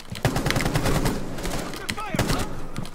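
Rapid gunfire in a Rainbow Six Siege round crackles in quick, close bursts, with a lull and further shots later, mixed with other game sounds.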